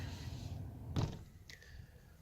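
A Tesla Model 3 car door shuts with a single solid thunk over low background rumble, followed shortly by a faint higher click or tone.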